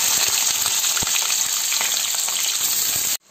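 Food frying in a pan for a chicken curry meal, a loud, dense, close sizzle that runs steadily and then cuts off abruptly near the end.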